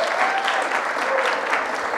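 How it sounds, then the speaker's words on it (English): A church congregation applauds the actors of a Christmas play, a dense, steady round of clapping filling the whole stretch with no voices over it. "let's give all the actors and actresses a big round of applause"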